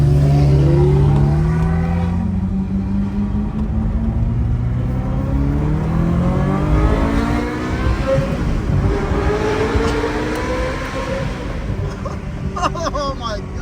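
Loud car engine revving at a car meet in Los Angeles, a sustained throttle howl rising and falling in pitch throughout, close by, with excited voices talking over it.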